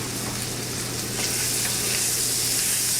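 Garlic andouille sausage, house made and fresh, sizzles steadily in hot bacon grease with onions, a close, loud, continuous frying hiss that swells slightly partway through, with no talking.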